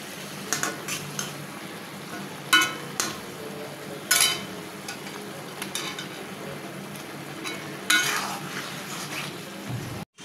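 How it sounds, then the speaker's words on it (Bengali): Pangas fish frying in spice masala in a pan gives a soft, steady sizzle, broken by intermittent sharp scrapes and clanks of a metal utensil stirring and turning the pieces. "মশলাটা ভালো কেসে পড়েছে, এখন মাছটা দিয়ে দেবো। এভাবে উল্টে উল্টে মাছগুলো দিতে হবে।"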